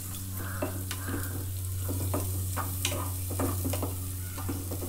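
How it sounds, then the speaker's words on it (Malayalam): Shallots frying in a pan for fish curry sizzle steadily while a spoon stirs them, with repeated close scrapes and taps over a low background hum. "ഇതിന്റെ എല്ലാം പച്ചമണം മാറി ഇട്ട് വന്ന വരെ ഒന്ന് ഇളക്കി കൊടുക്കാം"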